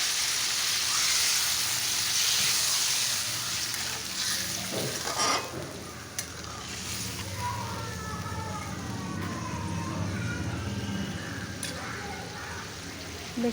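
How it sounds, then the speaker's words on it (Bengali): Rui fish in a mustard curry bubbles in a pot with a continuous soft sizzle and gurgle, moderately close, joined by a few clinks and a faint siren-like tone in the background. "দেখতেই পাচ্ছ টকবক করে ফুটে উঠছে"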